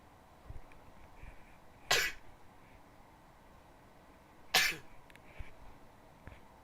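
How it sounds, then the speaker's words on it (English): Two sharp, explosive sneezes a few seconds apart, close and loud against a quiet background with faint small noises between them, no speech. "I hate sneezing."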